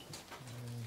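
A racing pigeon gives a brief, soft coo, close and alone, lasting under a second.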